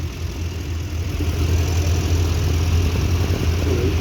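A vintage Massey Ferguson 175 tractor idles at a steam rally with a steady, low, close engine rumble that holds constant throughout, with no talk over it.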